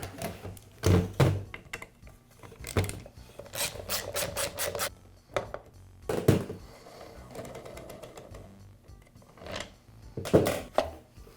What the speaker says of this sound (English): I'll begin by removing the magazine.